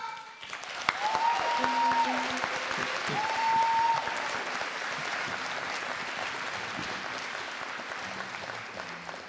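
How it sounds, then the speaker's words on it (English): An audience at a school district State of the System event applauds two performers, with sustained even clapping that gradually thins out toward the end. "how about another round of applause for both Kana and Troy?"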